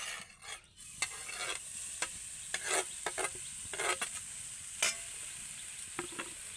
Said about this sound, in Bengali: পুরটা এবার বানিয়ে নেব তার জন্য নারকেলটা কড়াইতে দিয়ে দেব